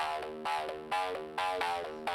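A Serum synth riff for a remake run through an amp effect for a lo-fi tone, four gritty harmonic stabs in a steady rhythm, slightly darker and rougher, heard alone.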